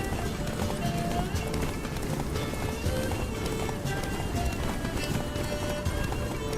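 A horse gallops in The Witcher 3: Blood and Wine, steady rapid hoofbeats under a dense rumbling wash, continuous and fairly loud throughout.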